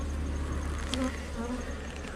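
A honeybee swarm buzzing at a hive during a spring apiary visit, a continuous dense drone of many wings with a brief louder pass from a nearby bee, no talking.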